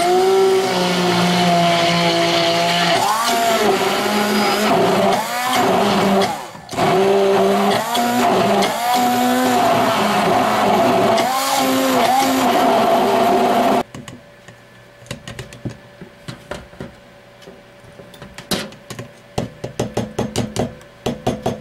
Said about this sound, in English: you can use blender or you can use hand blender.